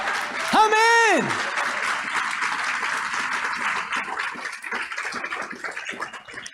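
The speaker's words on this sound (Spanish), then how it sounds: "aplaude al Señor, glorifícalo" Church congregation applauding, steady broad clapping that fills the room and carries on under a preacher's voice, which rises into a drawn-out exclamation near the start.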